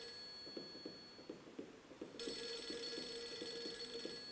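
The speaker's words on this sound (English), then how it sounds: "Fine, I'll answer the phone." A telephone rings in the video game Project Zero 3, a steady repeating electronic bell that rings on alone at a moderate level, growing brighter partway through.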